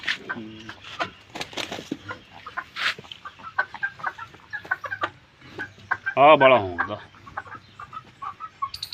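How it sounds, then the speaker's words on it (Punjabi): Chickens cluck in short, repeated bursts nearby, with one louder squawking call partway through, while a person speaks briefly. "ਆ ਕੁੱਕੜ ਆ ਗਏ ਕਿੰਨੇ ਕੁੱਕੜ ਹੈ ਦੋ ਤਿੰਨੇ ਹੀ ਆ"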